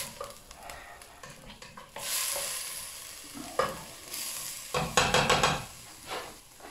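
Red and green peppers frying gently on low heat for lentils with chorizo, stirred with a utensil: soft sizzling under repeated scraping and clacking strokes against the pan, close up and uneven in rhythm, with no voices.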